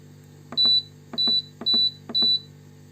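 A multicooker being switched to its pilaf mode gives four short electronic beeps, evenly spaced, each a clear steady tone, with faint clicks just before each beep and quiet around them.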